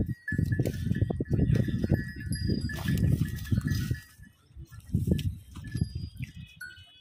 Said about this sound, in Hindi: आप देख रहे हो अच्छी क्वालिटी की बकरियां हैं और बच्चे हैं